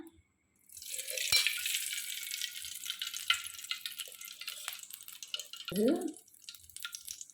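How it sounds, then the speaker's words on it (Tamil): Lady's finger (okra) sizzling in a pan for a Tamil-style fry, with a bright, steady crackle and hiss throughout, a sharp tap near the start and a brief scraping stir toward the end. "இப்போ நம்ம இதை ஃப்ரை இருக்கோம்"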